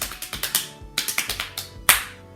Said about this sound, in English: you can use your body as a drum if you absolutely have nothing. Your lap as a drum.